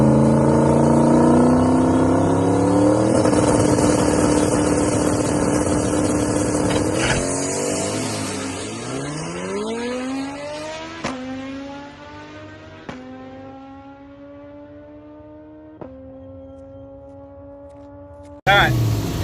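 Drag race car at World Wide Technology Raceway, its engine roaring loud and close, then easing off into a long falling whine as it slows, with a few sharp pops and a voice over the end.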